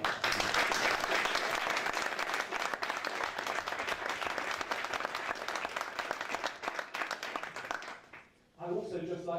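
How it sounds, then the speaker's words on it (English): Sustained applause from a school choir concert audience, dense many-handed clapping filling the hall before fading out, then a voice begins speaking. "I wonder if you can give them an extra round of applause for all their wonderful energy and efforts today."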